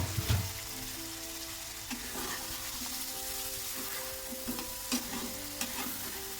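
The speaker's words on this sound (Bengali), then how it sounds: "2 মিনিট, একটু কষিয়ে নিচ্ছি।" Eggplant and broad bean seeds sautéing in a pan, a steady low sizzle with a few soft stirring knocks scattered through, close and alone with no voices.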